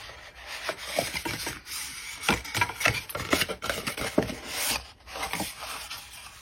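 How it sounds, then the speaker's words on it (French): Sheets of paper being creased and folded by hand while shaping a Christmas gift box, giving soft, irregular rubbing and crinkling strokes that come close and fairly quiet, with no talking. "faire nos plis à la main sans trop les marquer dans un premier temps."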